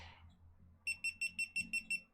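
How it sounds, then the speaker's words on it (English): A smoke alarm gives seven sharp, evenly spaced high beeps as it is switched off, loud and close after a brief low rumble, with no speech. "oh, I should turn this off before it beeps angrily at me."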